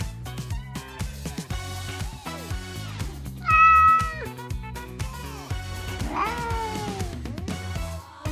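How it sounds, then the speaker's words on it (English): A cat meows insistently several times, one louder, drawn-out cry standing out over background music. "Calm down, Mr. Cat."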